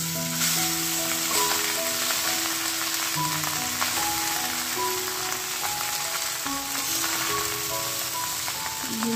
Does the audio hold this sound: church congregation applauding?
no